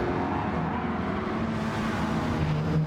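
Damaged race car in Gran Turismo 7 with its wheels spinning, a steady dense engine and road drone running continuously throughout, fairly loud with no talk.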